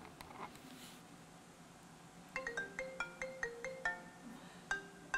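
A phone's incoming-call ringtone plays a quick repeating melodic pattern of clear electronic tones, starting midway in a quiet room and cycling several times at moderate loudness.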